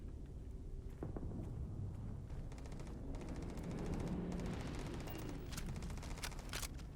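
Gunfire in the space game Starfield crackles in a dense, continuous stream of rapid shots and bursts that sound somewhat distant, with no talk.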